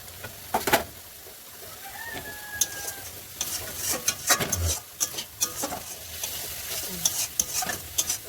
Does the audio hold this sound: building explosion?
no